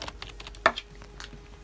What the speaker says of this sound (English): Razer keyboard.